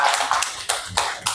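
Applause from a group at a classroom literacy session, several sharp bursts of hand claps in quick succession, close and fairly loud, with no talk.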